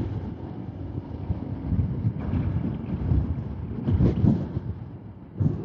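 Strong wind buffets the microphone in rumbling gusts, rising and falling throughout with no voices.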